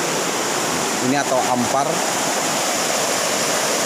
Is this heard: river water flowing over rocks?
yes